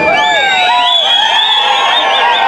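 A crowd at a patronal fiesta in San Andrés Ocotepec cheers and whoops loudly, many overlapping shouting voices rising and falling in a dense continuous roar with no single speaker standing out.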